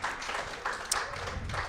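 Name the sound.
applause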